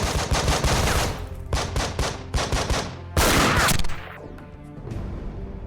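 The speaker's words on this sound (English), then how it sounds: "We have a sniper who is actually taking my guys out." Gunfire from the tactical video game Breach & Clear, including a sniper, rings out as dense rapid shots and bursts that crowd together, then trail off into quieter scattered reports, loud and up front with no talking.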